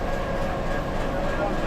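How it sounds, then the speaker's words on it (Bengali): A Kurigram shuttle train stands at a station in northern Bangladesh at night, giving a steady, loud low rumble and hum of rail noise throughout with no clear pauses, and people speaking nearby over it. "এটাই খুব সম্ভবত সেই শাটল ট্রেন"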